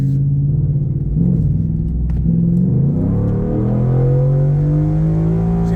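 A race truck engine revs loudly and steadily up close, its deep rumble rising and falling in pitch across several seconds with no voices over it.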